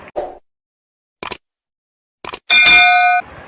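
A bright bell-like ding rings out after a few short clicks, its tone ringing steadily for under a second before fading into quiet.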